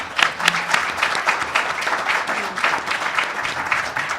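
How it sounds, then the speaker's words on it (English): Audience at a Marathon County judicial debate applauding the panel, a steady wash of many hands clapping throughout, fairly close and even in level. "A round of applause for our panel, please"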